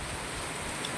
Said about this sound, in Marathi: पूर्ण पाऊस पडत आहे